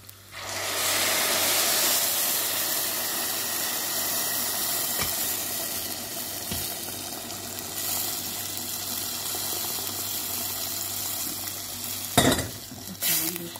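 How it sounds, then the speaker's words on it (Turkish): Bulgur pilaf in a pan with onion, garlic and tomato paste sizzling and frying steadily as boiling water goes in, a continuous near hiss with faint stirring and a couple of sharp clatters near the end. "Kaynar suyunu ilave edeceğim şimdi."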